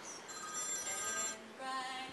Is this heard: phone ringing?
yes